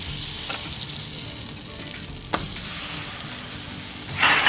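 Hamburger buns toast on a griddle, giving a steady close sizzle with brief scraping clicks and a louder burst of frying at the end. No one speaks.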